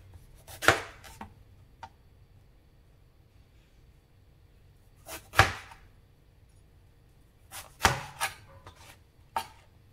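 Eggplant being chopped with a knife on a board, sparse sharp chopping strikes in a few small clusters separated by quiet pauses, close and without talk.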